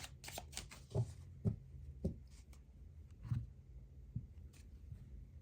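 Tarot cards from a Forest Fae deck being shuffled, soft and quiet, with several muted taps and riffles spaced about half a second to a second apart against a faint background.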